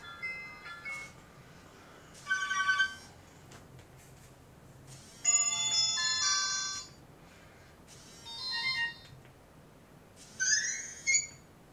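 A Nokia HMD phone previews its ringtones: short electronic melodic chimes come in separate bursts, each a second or so long, with quiet gaps between them.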